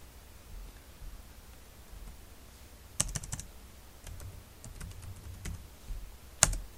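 Someone types a network command on a computer keyboard. A few soft key clicks come in short bursts, close but quiet against a faint hiss of room noise.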